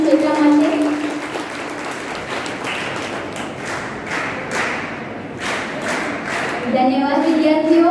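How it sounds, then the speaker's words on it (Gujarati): Audience applause at an International Women's Day event in a commerce college, a steady wash of clapping from a crowd that holds at a fairly even loudness throughout and swells slightly near the end. "એકવાર જોરદાર તાળીઓ થઈ જાય"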